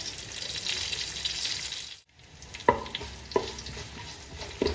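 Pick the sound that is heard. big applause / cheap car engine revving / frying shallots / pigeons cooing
frying shallots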